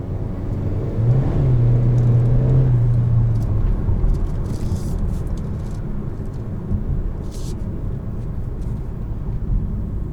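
A 2022 Kia Soul Turbo with a dual-clutch transmission drives along, its engine humming low and steady with a brief deeper drone early on over continuous road and tire rumble.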